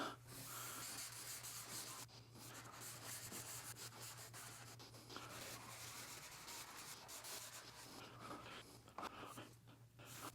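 A pad works Rubio Monocoat oil finish into the edges of a wooden piece, giving a steady, close scrubbing rub with brief pauses and no talk.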